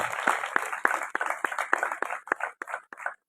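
Sparse, uneven clapping from a small audience at a Jabalpur folk cultural troupe's stage performance, individual claps close and distinct, thinning out and stopping near the end.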